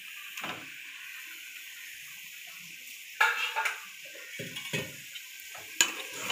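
Meat, onions and tomatoes for chicken biryani are stirred in a pan with a spoon, giving a few scraping, clinking strokes over a steady soft sizzle.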